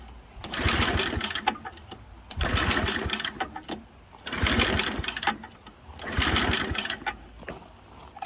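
A Toro snowblower engine cranked repeatedly without catching: four long bursts of rough, clattering pull-start effort, each lasting about a second and a half, separated by short pauses, fairly close and loud with no speech.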